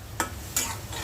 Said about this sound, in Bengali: আরেক পাশে বুট আর ডাবলি একসাথে আমি ভেজে নিচ্ছি